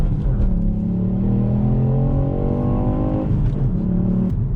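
A Ford Puma ST's 200 hp three-cylinder turbo engine revs hard as the car accelerates, pitch climbing steadily through a gear before dropping briefly and rising again.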